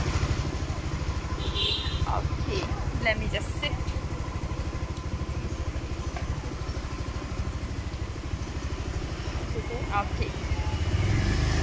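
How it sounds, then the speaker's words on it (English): A motorbike idles steadily with a low, continuous engine rumble in a Vietnamese street setting in Vung Tau, with people talking briefly over it and some passing clatter. "So now we are going to go with the motorbike"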